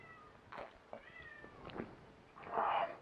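A cat meows softly a few times, faint and close in a quiet indoor room, ending with a louder, raspier cry.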